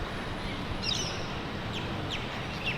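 Faint, scattered Australian white ibis calls cut through a steady outdoor hiss, a few short harsh squawks spaced apart at some distance.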